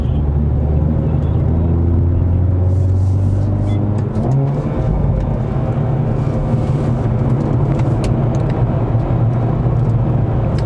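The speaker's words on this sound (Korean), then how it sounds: "다운시프트 할 때 반응도 빠른데 딱 회전수 쳐주는 그 느낌도 좋네요" A Hyundai Veloster N with an 8-speed dual-clutch gearbox rumbles under load on a circuit, then a quick engine blip marks a rev-matched downshift, followed by continued close engine drone with no talking.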